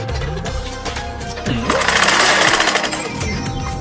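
A sewing machine stitches a torn five-taka banknote in a small shop, its quick mechanical chatter rising into a dense whirring burst midway. Faint background noise sits under it.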